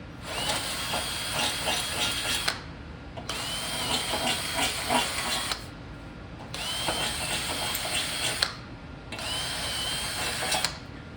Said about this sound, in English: I'm gonna ream those holes out a little bit with a 5/32 drill bit